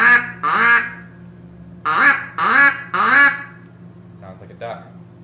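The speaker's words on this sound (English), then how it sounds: "And the duck call sounds like this." An Acme duck call, a reed instrument, gives five loud nasal quacks in uneven bursts, then two fainter, shorter quacks. It is close and heard alone over a low background hum.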